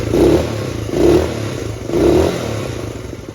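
Engine of a 1969 Honda CT90 Trail 90 motorcycle running close up, pulsing in three even swells of revving over a loud, steady mechanical hum.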